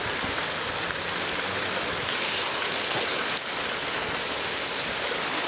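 Steady broadband rush of flowing water, like a stream or small waterfall, continuous and fairly close throughout with no voices.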